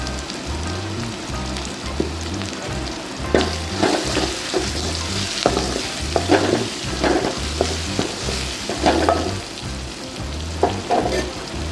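Asafoetida sizzles in hot oil in a pan while tempering for yellow pumpkin sambar, a steady crackling fry with rhythmic stirring scrapes and a few louder pops, close and alone with no talk.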